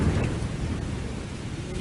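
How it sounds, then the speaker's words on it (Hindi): Heavy rain with rumbling thunder, a dense steady downpour with a low roll underneath, loud and continuous. "तभी अचानक तेज बारिश शुरू हो गई और बादल गरजने के साथ साथ बिजली भी चमकने लगी।"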